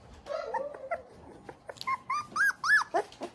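High, wavering whines and whimpers from puppies come in short repeated bursts, some rising and falling in pitch, fairly close and with no talking.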